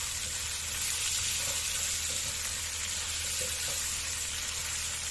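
Mixed vegetables with peas and capsicum fry in a kadai, giving a steady close sizzle with a few soft stirring scrapes and clinks on top, and no voices.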